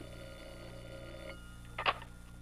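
A telephone bell in an old radio program gives one short ring over a steady background hum.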